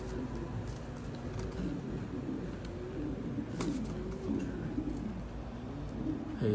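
A pigeon coos softly in a loft where newly hatched squabs are being hand-fed, a low repeated cooing heard faintly against steady background hum.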